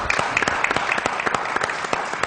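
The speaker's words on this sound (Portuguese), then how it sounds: "Por isso vamos aplaudir Dr." Audience applause at the close of a Brazilian afternoon talk show, honoring a guest doctor; dense, steady clapping throughout, moderately loud, with a faint voice underneath.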